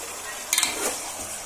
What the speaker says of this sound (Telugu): మొత్తము చికెన్కి పట్టేటట్టు బాగా కలపాలండి